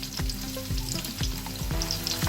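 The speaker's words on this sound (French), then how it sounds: "j'ajoute les oignons" Onions fry in hot oil in a pan for a mutton sauté, giving a loud, continuous crackling sizzle broken by several regular stirring scrapes, close up and without voices.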